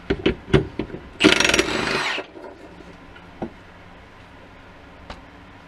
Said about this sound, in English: The Milwaukee does have the balls to take this main bolt out.